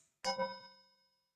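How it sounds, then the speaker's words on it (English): A single chime is struck once, ringing out clear and bright and then fading slowly into silence over about a second, alone with no talk. "As we listen to the chime"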